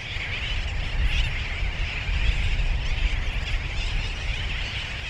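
A roosting seabird colony of brown and masked boobies on an island gives off a dense, steady wash of overlapping calls and wind noise, with no single call standing out.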